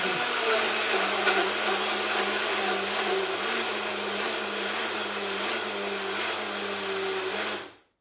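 A kitchen robot blender whirs steadily at high speed as it blends a smoothie, a loud continuous motor drone with churning that runs without a break and then cuts off abruptly at the end, with no talking.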